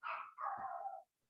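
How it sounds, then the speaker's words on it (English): Dogs bark once somewhere in the background, a short sharp yap followed by a longer drawn-out bark, quiet and slightly distant, then silence. "and I apologize about the dogs."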